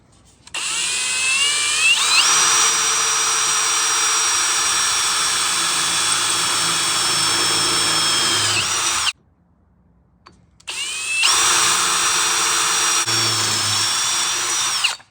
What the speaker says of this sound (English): Just going to be drilling holes probably right along here.